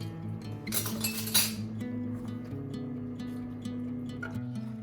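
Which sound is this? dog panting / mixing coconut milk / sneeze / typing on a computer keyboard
mixing coconut milk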